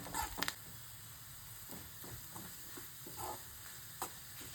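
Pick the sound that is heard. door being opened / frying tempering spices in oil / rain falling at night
frying tempering spices in oil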